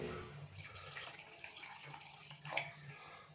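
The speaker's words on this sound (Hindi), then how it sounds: "और अभी हम इसके अंदर पानी डालेंगे।" Water runs from a tap into a bowl holding beef liver with vinegar, ginger-garlic paste and salt, a faint, steady splashing pour with a small slosh near the end.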